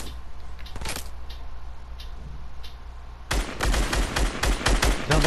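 Gunfire in Fortnite, with a couple of isolated shots early on, then a dense burst of rapid automatic fire in the second half, loud and close.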